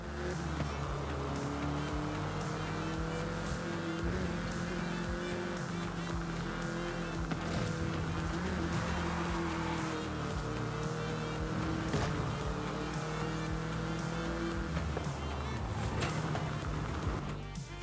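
A Volkswagen Beetle drives in the Forza Horizon 5 racing game with a steady, continuous engine drone and tonal hum held throughout at an even, fairly loud level, with no talk over it.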